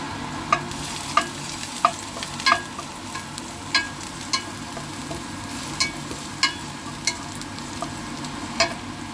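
Garlic frying in cooking oil in a pan as Chinese-style vegetables are started: a constant bright sizzle with regular spatula scrapes and knocks about once a second.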